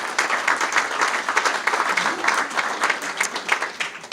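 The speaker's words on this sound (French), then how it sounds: "elle mérite beaucoup d'applaudissements aussi" Applause from an audience at a Hall of Fame induction ceremony, a steady dense patter of many hands clapping close by, continuous and fairly loud with no pauses.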